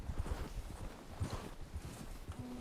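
Horse hooves clip-clop at a walking pace in Red Dead Redemption 2, steady irregular thuds over a soft background hiss, faint and close with no talk.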